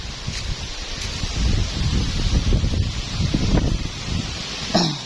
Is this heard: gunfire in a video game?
no